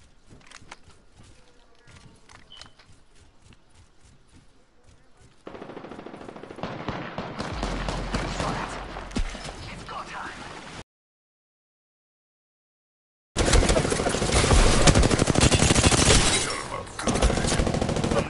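Rapid bursts of automatic gunfire in a shooter video game, loud and close, coming in dense stretches separated by a short silent gap, with faint background sounds between.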